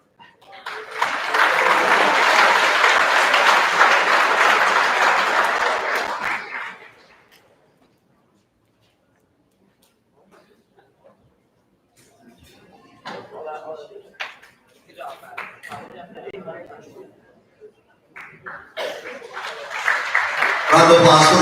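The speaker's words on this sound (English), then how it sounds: "Round of applause for the coaches." A graduation audience gives the coaches a loud burst of applause that lasts several seconds and then stops abruptly, followed by quieter shuffling, scattered sounds and faint voices.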